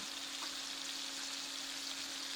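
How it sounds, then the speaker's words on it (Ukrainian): Meat sizzles and fries steadily in a hot pan over medium heat, a constant loud crackling hiss with no pauses. "обсмажуємо м'ясо на середньому вогні до утворення рум'яної скоринки"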